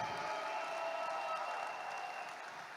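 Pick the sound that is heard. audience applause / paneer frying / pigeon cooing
audience applause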